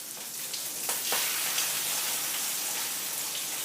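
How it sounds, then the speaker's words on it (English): Salmon frying in a hot, smoky buttered pan gives a dense, even hiss of sizzling with a few louder spits near the start, steady and close with no speech. "you've got the salmon there ready to go into your nice buttered and smoky pan"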